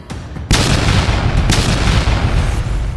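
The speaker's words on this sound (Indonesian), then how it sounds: "Ledakan besar mengikuti perintah itu." Spiritual artillery fire sets off a big explosion: a sudden loud blast breaks out of a quieter rumble and swells into a sustained, thundering roar with no voices.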